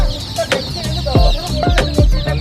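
A big, muscular rooster clucks in short, sharp calls, several coming close together nearby amid farmyard noise.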